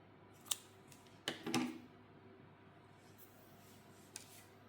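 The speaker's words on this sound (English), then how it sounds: "pull out your yarn and cut it" Scissors snipping yarn after finishing crochet work on a baby cardigan: a few quiet, close clicks and a short crunchy cut, with faint handling rustles in between.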